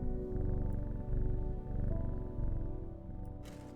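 A cat purring in the Strange Horticulture video game, a steady, close, rhythmic rumbling purr in cycles, alone without talk.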